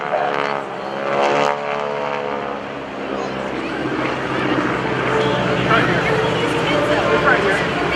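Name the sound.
GEICO Skytypers propeller aircraft flying at an air show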